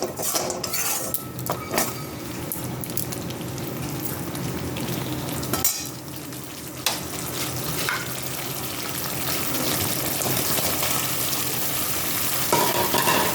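Boiled potatoes and peas frying with spices in a pan make a loud, continuous sizzle, broken by metal spoon scrapes and clinks against the pan as they are tossed, close and busy, with no talking.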